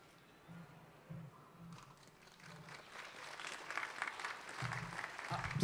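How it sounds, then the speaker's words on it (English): An audience claps at a vigil in Reston, Virginia, starting faintly and swelling into steady, fairly distant applause while low hums and a few murmurs sit underneath. "Please refrain from clapping."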